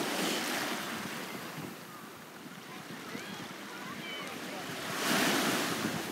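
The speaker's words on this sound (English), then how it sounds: "I love the sounds of crashing waves in the shore" Ocean waves break and wash onto the shore at Clevedon and Portishead, a steady roaring surf with wind buffeting the microphone, swelling louder near the end.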